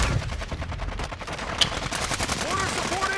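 Rapid automatic gunfire from incendiary rounds in the shooter game Warzone 2, a dense rattle of shots with one sharp louder crack, heard under faint background game sounds.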